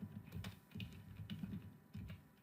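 Quiet typing on a computer keyboard, a steady patter of soft key clicks with small pauses, heard close and alone.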